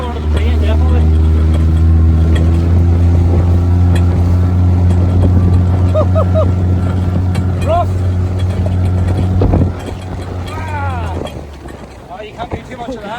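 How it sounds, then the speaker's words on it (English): Inflatable boat's outboard motor running flat out at full throttle, a loud steady drone with rising pitch as it planes, wind buffeting the microphone, a brief spoken remark, then the engine eases off near the end. "We'll attempt a full speed run here, see what happens. Here we go, full throttle."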